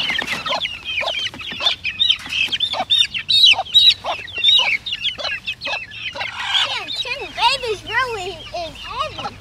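Chickens in a chicken tractor cluck loudly and close by in a busy, uneven run of calls, ending in a series of rising and falling chirps.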